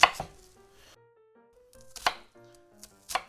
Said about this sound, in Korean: 그러니까 크게 잘라주세요.